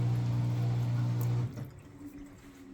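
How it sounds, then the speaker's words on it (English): Water rushes steadily out of a GE front-load washing machine, a hot-water drain that cuts off abruptly midway and leaves a quieter, trickling wash tail; no speech. "I can see the water that coming out from the machine"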